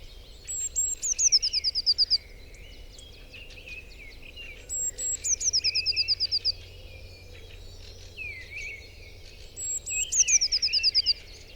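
Garden birds around a fat ball feeder, where blue tits, a magpie and starlings gather, give repeated bursts of high, rapid chirping song, three similar phrases a few seconds apart over a quiet background.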